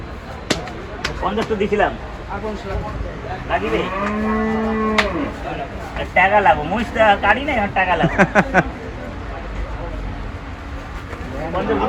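Cows moo loudly and repeatedly amid a busy crowd at a cattle market, with people talking and calling out all around.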